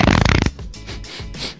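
A loud, drawn-out fart rattles close by for about half a second, then gives way to quieter rustling and soft bursts among a group of male friends hanging out.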